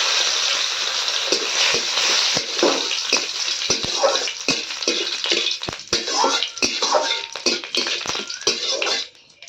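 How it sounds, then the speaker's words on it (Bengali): Whole cumin seeds, bay leaves and dried red chillies sizzle steadily in hot oil for a spice tempering, a dense crackling hiss with sharp pops scattered throughout, close and fairly loud, fading at the end. "এবার ফোড়নে দিয়ে দিচ্ছি গোটা জিরে, দিয়ে দিচ্ছি তেজপাতা আর দুটো শুকনো লঙ্কা।"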